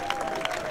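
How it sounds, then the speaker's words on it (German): Applause for men's field hockey teams at a Bundesliga match: steady clapping from a stadium crowd, moderately loud and continuous throughout, with a sustained tone running beneath it. "Und so oft kriegen sie auch nicht so viel Applaus."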